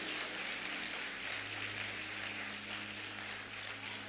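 Audience applauding at a Christian church conference: soft, steady, distant clapping that holds as a continuous wash from start to finish, with a low hum beneath it.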